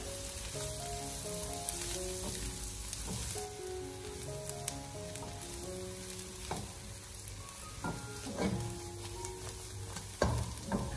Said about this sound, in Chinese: 接着再把切好的小料放进锅中，继续的用小火煸炒，把葱蒜的香味煸炒出来。